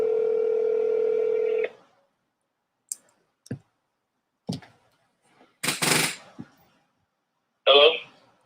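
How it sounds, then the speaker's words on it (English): A telephone being dialed to call someone back: a steady dial tone cuts off, then a series of separate clicks and short key beeps follow with quiet gaps, ending in a brief ringing burst. "Let me see if I can call back."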